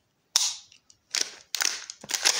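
Four sharp, loud gunshot cracks from a real handgun fired outdoors in Ukraine, the first standing alone and the other three following in an uneven sequence, each with a short decaying tail.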